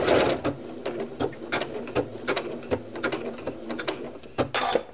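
A sewing machine runs a decorative stitch pattern on fabric, its needle mechanism clattering in a steady rapid rhythm with regular louder clicks, close and alone with no talk.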